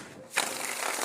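A deck of tarot cards gets a quick shuffle up close: a brief soft lull, then a crisp riffling flutter of cards that runs to the end of the short moment.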